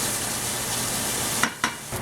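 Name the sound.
bacon pieces frying in a pan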